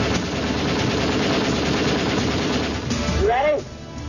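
Browning machine gun fires in a sustained, rapid burst of loud, dense rattling gunfire, ending with a brief gap and a high swooping sound near the close.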